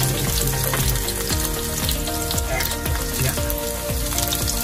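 Baby octopus fries in a hot pan until browned, a loud, steady sizzle that runs throughout with occasional stirring scrapes.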